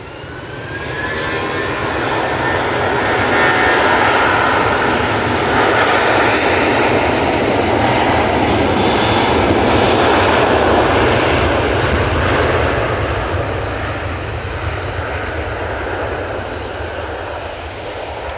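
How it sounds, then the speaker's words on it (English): An Emirates Boeing 777 airliner's jet engines build into a loud takeoff roar, swelling over several seconds, holding a powerful broadband rumble, then slowly fading as the aircraft departs; fairly close, no talk. "just before the Emirates 777 took off"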